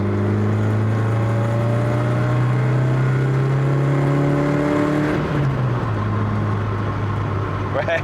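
A 1975 Toyota Corolla KE35 engine revs hard and steadily for about five seconds, then the pitch drops as it eases off and settles into a lower drone, loud and close throughout.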